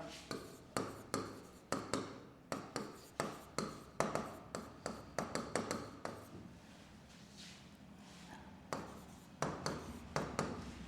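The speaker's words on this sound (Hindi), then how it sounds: "यहां मैं लिख रहा हूं, देखना" Rapid marker or chalk strokes on a classroom board during an English grammar lesson, a long series of sharp taps and scratches in quick rhythmic bursts, close and clear, with a brief pause before the strokes resume.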